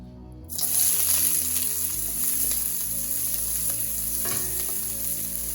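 Onions dropped into hot oil in a pot for curry crab, bursting into a loud, bright, continuous hiss that holds steady, with faint stirring knocks under the sizzle.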